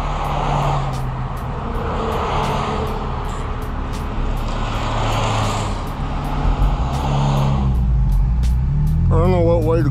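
A BMW M3 with manual transmission, in Sport Plus mode on a canyon road, drones steadily at close range with road and wind noise, its pitch swelling as it revs near the end.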